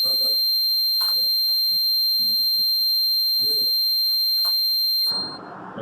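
An Arduino-controlled buzzer drones as a steady, loud, high-pitched tone for about five seconds and then cuts off abruptly, with brief talk underneath.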